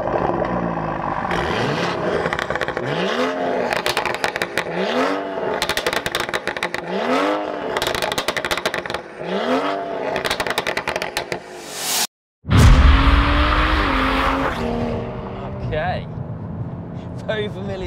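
A 480 bhp Stage 2+ tuned BMW 540i engine revs repeatedly in rising and falling bursts while driving, loud and close, before a sharp cut and a steady drive.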